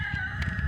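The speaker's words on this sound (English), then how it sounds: "my chickens are being loud this morning" Backyard chickens clucking with a rooster crowing in the morning, a short burst of hoarse calls heard at moderate distance with a steady hum beneath.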